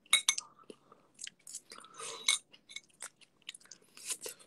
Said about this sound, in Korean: 이 사람들은 내가 양파를 먹고 있는 것을 왜 보고 있을까?